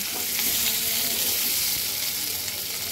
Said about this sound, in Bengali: তো চলো আগে আলুটাকে ভেজে নেই।